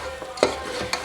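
Meat bones for haddi guddi salan frying with spices in a pan, a steady low sizzle broken by a couple of sharp stirring scrapes, close and fairly quiet.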